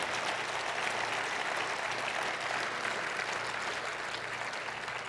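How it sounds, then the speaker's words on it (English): An audience at a health care town hall applauds the panel. The clapping is dense and steady, with many hands at once, and holds at an even level throughout. "Let's hear it again for the panel."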